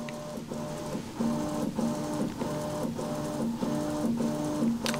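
Prusa XL 3D printer calibrating its Y axis with phase stepping, moving diagonally: repeated whirring stepper-motor tones in short, evenly spaced bursts, close and moderately loud, with no talking.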